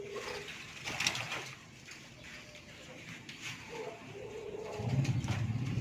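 Soft zebra dove cooing in a few short bursts at a bird breeding farm, fairly close, with light background noise and a faint voice in the mix.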